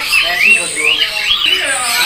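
A female white-rumped shama calling close by with bright, rising and falling whistled notes and harsh chatter, repeated several times.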